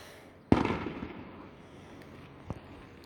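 A single sharp firework bang booms at a distance and echoes, followed by a fainter pop a couple of seconds later.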